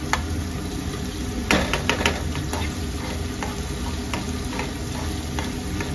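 Onions frying in a pan for a small-fish curry, a constant hiss and sizzle with scattered sharp clicks and knocks of a utensil stirring against the pan.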